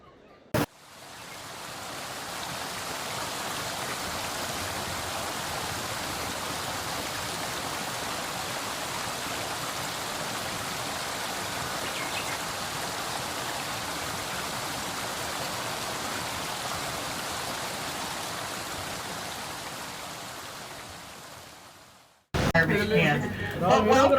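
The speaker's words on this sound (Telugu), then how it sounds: "ఆల్మోస్ట్ నియర్ టు మనము వాటర్ ఫాల్స్ దగ్గరికి వెళ్తున్నాము." Roaring water at Niagara Falls, a loud, steady broadband rush that holds for about twenty seconds before cutting off abruptly.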